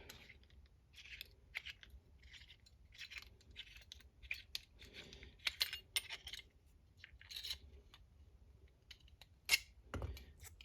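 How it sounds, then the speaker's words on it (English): A metal spring is cut down during assembly of an MP-17: close, scattered sharp snips and clicks in an irregular rhythm, ending with a louder snap near the finish, with no talking. "we're gonna cut this spring"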